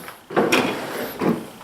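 A wooden sliding door on an angled cabinet is pushed shut, giving two short bumps and slides at the start and near the end over a quiet shop background.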